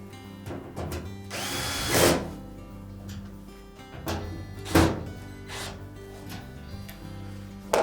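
Power drill driving screws into a Frigidaire washer panel, several short whirring bursts with thunks and handling noises between them, close and fairly loud.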